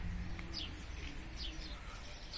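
Pigeons outdoors, with low soft cooing notes repeating under steady background noise and a few brief chirps overhead, moderately close.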